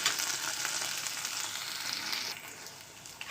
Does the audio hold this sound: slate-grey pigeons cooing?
no